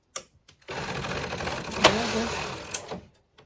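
A domestic knitting machine carriage sweeps across in a circular pass while knitting rows of a 1x1 ribbed beanie, a sustained loud mechanical whirring rasp lasting about two seconds, bracketed by short clicks before and after.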